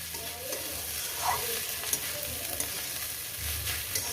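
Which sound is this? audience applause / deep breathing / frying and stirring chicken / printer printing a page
frying and stirring chicken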